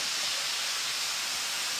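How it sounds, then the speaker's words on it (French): A small waterfall spills in the rain during a bivouac at Les Mées, producing a steady, soft broadband hiss without pause and no voices. "En fait c'est une mini cascade."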